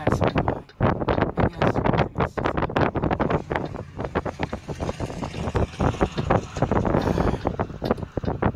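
Heavy wind buffets the microphone in loud, choppy gusts beside a road with passing trucks and cars, rumbling and crackling almost continuously.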